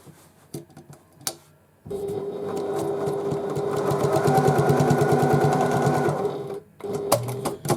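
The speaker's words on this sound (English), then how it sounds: "we just baste this across the top just to fix it firmly in place at either end" A domestic sewing machine bastes across the top of a midi tote bag, running in a fast, even rhythmic clatter for about five seconds. A few clicks come before it starts, and it resumes briefly after a pause.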